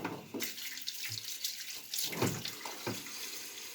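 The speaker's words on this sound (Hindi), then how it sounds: "और इतनी शाम को देखिए हम जूता धो रहे हैं" Tap water runs and splashes while shoes are washed outdoors in the evening, a close, irregular gush with bursts of splashing and scrubbing, with no voices.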